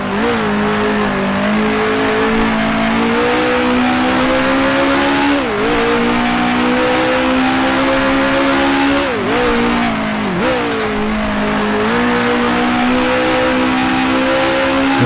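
Loud, sustained engine drone from 1966 Formula One cars in the racing game Grand Prix Legends, the pitch holding high with a few brief dips as gears shift, continuous and close.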